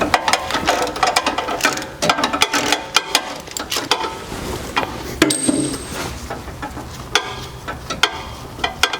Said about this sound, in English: once we've got that socket fully seated, we're ready to start backing it off.